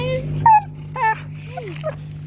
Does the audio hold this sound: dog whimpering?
yes